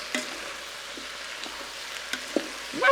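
Sausage, peppers and other vegetables sizzle softly in a pressure cooker pot as they are tossed, with light crackling and a few scraping clinks, then a louder stir at the end.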